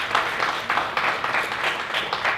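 Applause from an audience at a panel discussion: steady, dense clapping filling the hall, moderately loud and continuous throughout, with no talk over it.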